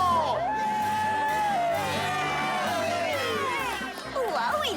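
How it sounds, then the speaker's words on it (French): A cartoon crowd cheers and whoops for Trixie the flying poodle, with rising and falling shouts and whistles layered over a dense, continuous roar of the audience. "Faites un tonnerre d'applaudissements pour le grand Trixie"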